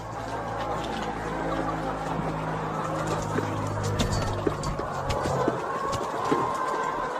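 Soft clucking of chickens fed on black soldier fly larvae in a busy outdoor setting, with low background hum and scattered small noises.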